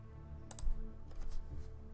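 Computer keyboard keys are pressed during a Stellaris play session, with a few quick, close clicks in short bursts over a quiet background.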